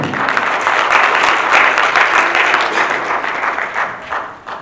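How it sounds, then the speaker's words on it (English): Loud, dense applause from a church congregation, a sustained roar of clapping hands that holds steady before tapering slightly at the end. "give the Lord another hand clap of praise in this place"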